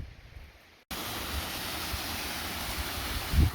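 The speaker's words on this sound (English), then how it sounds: "First people ever to see this waterfall because of how lost we are." A mountain waterfall roars as broadband rushing water, loud and steady after a sudden cut in, with a low thump near the end and no talk.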